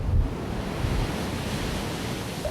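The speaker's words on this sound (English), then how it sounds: "Here, I guess you watch the ocean come up through the rocks." Ocean waves surge through rocks at Depoe Bay on the Oregon coast, giving a steady roaring wash with a low rumble that swells at the start, and wind buffeting the microphone.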